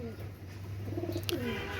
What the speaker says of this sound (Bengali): একজোড়া পাকিস্তানের শিয়ালকুঠি কবুতর